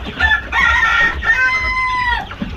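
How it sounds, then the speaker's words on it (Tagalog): A chicken on a farm crows and clucks loudly and close by, with drawn-out tonal calls interrupted by short breaks, over faint low barnyard noise. "May nangingitlog ditong manok."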